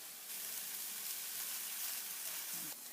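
Mushrooms sizzle in a pan as they cook down, a steady close hiss of frying with faint stirring underneath that fades slightly at the end.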